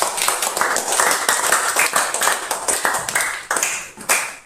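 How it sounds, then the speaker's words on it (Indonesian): Students in a primary school classroom clap for group 3, with a fast rhythmic burst of sharp, close hand claps repeating in quick beats that fade toward the end. "Tepuk tangan untuk kelompok 3."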